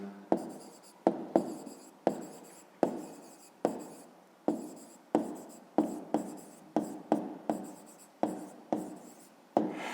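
Pen strokes scratch across paper while a math answer is written by hand, about a dozen short rhythmic scribbles each starting with a sharp onset and trailing off, close and fairly quiet with no voices.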